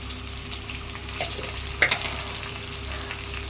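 Eggplant and potato frying in oil with spices for a fish curry, a steady close sizzle with a few stirring scrapes and clinks, no voices.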